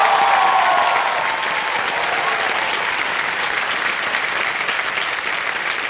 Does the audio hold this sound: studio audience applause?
yes